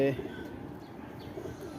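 Pigeons with an eye infection coo softly and briefly beneath a person talking.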